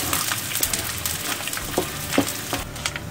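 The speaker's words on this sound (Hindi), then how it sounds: "घी गर्म हो चुका है, अब गैस को थोड़ा कम कर लेंगे और इसमें गोंद को भूनेंगे।" Edible gum (gond) frying in hot ghee on lowered heat, a continuous bubbling sizzle with scattered crackles and soft pops throughout, close and unaccompanied by speech.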